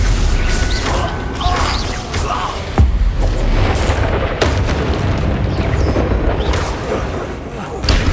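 Confringo blasting-spell explosions in the Hogwarts Legacy video game: heavy booms and crashing impacts over a dense, continuous battle din, with voices calling out spells.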